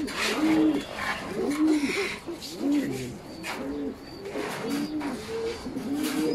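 A fantail pigeon coos over and over in a steady rhythm, soft rolling calls repeated nearby, with faint background noise.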